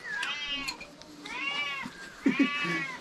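A cat meows repeatedly, several drawn-out, rising and falling cries close by, with brief pauses between them and faint background clatter.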